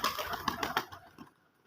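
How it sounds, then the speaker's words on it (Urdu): Domestic pigeons arriving at a home loft in Pakistan, with a quick series of close wing-flapping bursts that die away into quiet within two seconds. "یہ دیکھیں یہ آ گئے کبوتر میرے"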